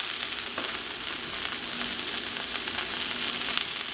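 Two bunches of kale seasoned with salt and pepper wilting in a pan, a dense, even hiss of frying that holds steady throughout, close and fairly loud, with no one talking.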